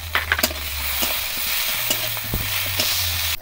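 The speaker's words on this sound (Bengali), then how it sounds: "পেঁয়াজ ভাজা হয়ে গেছে" Chopped onion frying in a pan with cumin and five-spice tempering, a steady close sizzle with occasional stirring scrapes and clinks, no talking.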